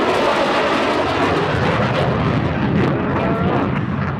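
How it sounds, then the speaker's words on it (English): Thunderbird 6 jet roaring low past an airshow crowd at the SUN 'n FUN Aerospace Expo, a loud continuous broadband rush that stays intense throughout, no voices over it. "That was Thunderbird 6 sneaking up on you with the sound of freedom."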